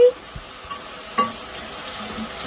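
Pork with soy sauce stirred in a pan, soft sizzling under a few light utensil scrapes and clicks against the pan, fairly quiet and close.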